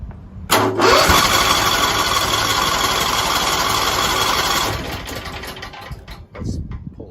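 A Champion 15,000-watt portable generator cranks, catches and settles into a loud, steady engine roar close by, which eases slightly toward the end and is followed by a brief rattle.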